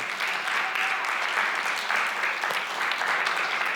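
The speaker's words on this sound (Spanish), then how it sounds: "Le brindamos aplausos al Señor." A church congregation applauds steadily during a family thanksgiving service, the clapping sustained and fairly even throughout with no talk over it.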